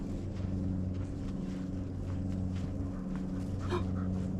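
A dog pants rhythmically and close by on an outdoor trail at Buck Lake East Tract, its quick breaths partly masked by steady wind rumble on the microphone.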